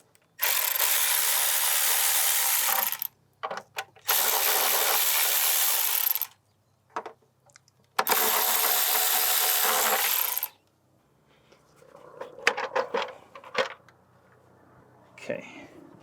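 Broadband bursts of a powered driver or wrench loosening fasteners on a 2004-2010 Lexus/Toyota 3MZ-FE engine cover, three long runs of about two to three seconds each with short pauses, followed by quieter clinks and rattling as parts are handled.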